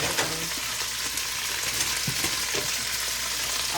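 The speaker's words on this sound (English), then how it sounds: "I gotta saute them" Chopped potatoes and onions sauté in a pan for a seafood and sausage stew, giving a steady, close broadband sizzle with occasional stirring scrapes and no talking.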